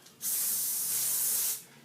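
An aerosol spray can releases one steady, close hiss lasting just over a second, starting and stopping abruptly.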